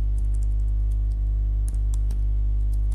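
Keys clatter on a computer keyboard as commands are typed on a Kali machine, sparse light clicks with irregular pauses over a steady loud electrical hum, with no talk.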